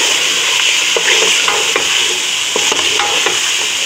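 Cumin goes into frying mutton pulao in a pot: a loud, continuous hiss of sizzling oil, close up, with faint stirring scrapes and no speech.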